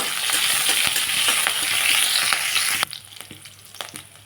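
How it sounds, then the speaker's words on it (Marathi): Curry leaves and finely chopped green chilli sizzling in hot oil in a pan, a loud steady hiss with faint stirring clicks that suddenly drops to a quiet crackle near the end. "टाकते एक छोटी बारीक चिरलेली मिरची आपण यांना मस्त लालसर रंग येईपर्यंत भाजून देऊ"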